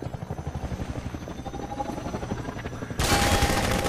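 A helicopter drones over rapid bursts of gunfire in Half-Life 2, a continuous throbbing rotor with a sudden louder, noisier blast near the end.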